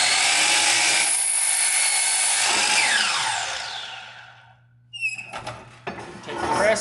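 Power saw cutting a wood board to length against a stop block, a loud whining cut that spins down and fades out, followed by clattering handling noises of the board.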